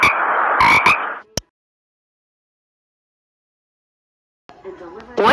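A frog croaking sound effect comes in two separate bursts, a loud raspy stretch at the start with sharp clicks and a shorter one near the end, with a long silent gap between them.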